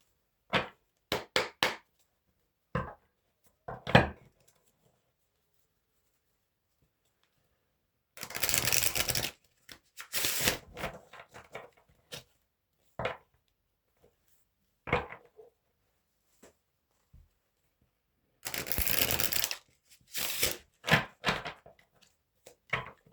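Bibliophile Oracle cards being shuffled by hand, with bursts of riffling flutter separated by scattered taps and clicks of cards and silent gaps, close and fairly quiet.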